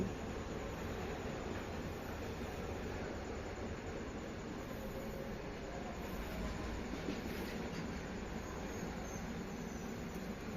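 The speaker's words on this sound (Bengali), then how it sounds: "এরপর ট্রেনে যাচ্ছি।" A train rumbling along at steady speed, a continuous low roar with faint rattling from the carriages.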